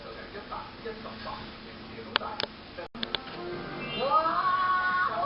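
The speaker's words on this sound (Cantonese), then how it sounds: "你睇下有隻貓" A cat meows at the end, a rising and falling drawn-out call near the microphone, after sharp knocks and a voice speaking.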